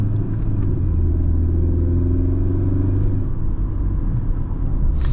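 Inside a 2005 Mercedes-Benz C230 Kompressor W203 on the road, the supercharged engine and tires make a steady, loud low rumble that holds even throughout.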